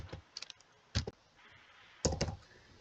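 Keys tapped on a computer keyboard to enter a verification code, a few quick clustered clicks in short bursts with pauses between, close and quiet.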